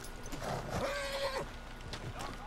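A horse whinnies in Red Dead Redemption 2, a single clear neigh with hoof clip-clops around it, alone without speech.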